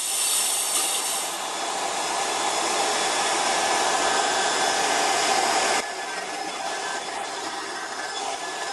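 SMACO portable HPA air compressor running with its cooling fan, a steady loud whirring hiss that continues without a break and shifts slightly in tone partway through, with no voices.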